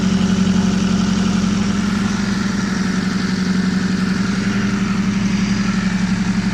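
A Mk1 Ford Escort engine idles steadily with a low, even rumble and slight vibration, running alone with no talk over it.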